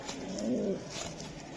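A single female racer pigeon gives a short, low, close coo that swells and fades within a second or so, with no voices.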